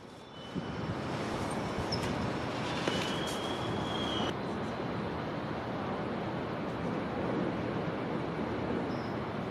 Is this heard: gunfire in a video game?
no